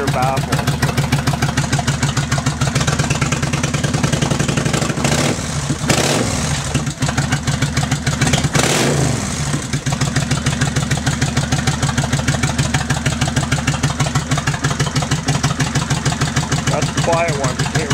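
A 2004 Kawasaki Vulcan 1500 with Vance & Hines long-shot exhaust idles close by, a steady loud lumpy rhythmic pulse with a couple of short blips in the middle.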